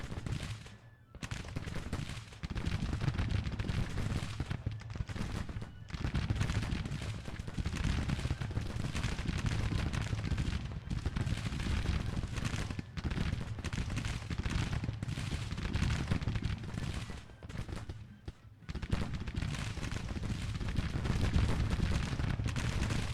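Long-range Civil War artillery and massed musketry from a battle in Grand Tactician: The Civil War rumble on continuously, distant booms and crackling volleys rolling together with only a few brief gaps.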